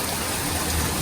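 Rain falls hard during a storm, a dense, even hiss of downpour filling the whole moment with no voices.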